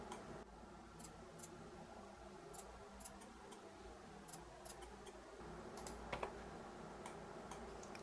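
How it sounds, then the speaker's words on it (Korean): Faint, scattered clicks of a computer mouse being pressed repeatedly while working in AutoCAD, sharp and light over a quiet background hum. "노드점 클릭 반복적으로 클릭"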